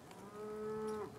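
A single cow in a herd on a ranch gives one drawn-out low moo lasting about a second, faint and somewhat distant, with no talking over it.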